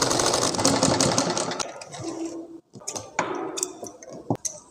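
Sewing machine stitching pleats on a wrap-style trouser, fast rattling needle bursts up close that stop and restart, followed by scattered ticks and clicks of fabric handling, with no talking.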